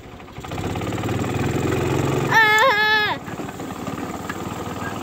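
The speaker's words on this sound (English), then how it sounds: "This gear over here to the left, it's still idling." A go-kart engine idles low and steady while riding, a rough continuous rumble close by, with a brief cry from a voice partway through.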